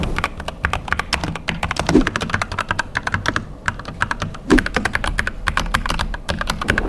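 Fast, steady typing on a Dust Silver wireless keyboard with a squishy feel: dense, close key taps in a continuous clatter with a couple of brief pauses, heard alone.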